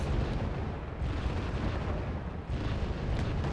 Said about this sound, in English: Yeah, artillery.